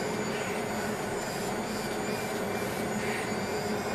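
Suction handle of a vacuum roller cellulite treatment machine with cavitation and radio frequency, running with a steady, loud motor-and-pump hum and airy hiss that holds unchanged throughout, with no voices.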